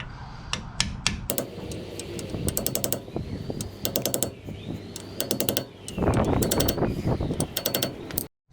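A greased brake part being tapped into place with a hammer, giving sharp metallic knocks in quick clusters of several strikes with short pauses between them, close and loud, with no talking.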